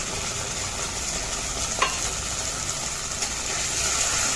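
Ginger paste and spices cook in a pan with a little water for a fish-head moong dal, producing a steady close sizzle with light stirring scrapes and a single sharp clink partway through, and no talk.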